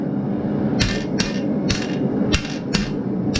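Hammer striking steel while a blacksmith bends the top half of a tripod spit, six sharp ringing blows at an uneven pace over a steady background hiss of the forge.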